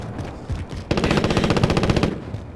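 An automatic machine gun fires in the battle royale game Warzone, a rapid, sustained burst of evenly spaced shots lasting over a second after a few quieter sounds.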